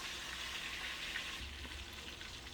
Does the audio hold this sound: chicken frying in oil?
yes